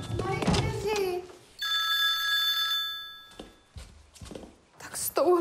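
A mobile phone rings with a steady electronic tone lasting over a second, set in a Czech drama scene, with people speaking before and after the ring.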